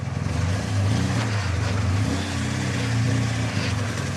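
A car drives up and parks at a hotel, its engine a loud, close, low rumble that surges and eases in slow waves, with no talk over it.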